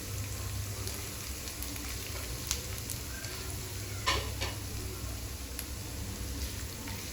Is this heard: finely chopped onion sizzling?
yes